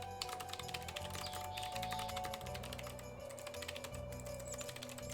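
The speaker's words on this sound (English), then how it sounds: "Do you guys like typing sounds, or are you annoyed by them?" Steady typing on a computer keyboard, a quick run of soft key clicks and taps with no pauses, faint and close, over a low constant background hum.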